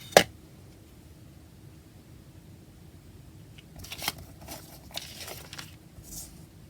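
Scissors cutting out a stamped paper word for a craft tag, a sharp snip at the start, then a run of quieter crisp snipping and paper rustles near the end.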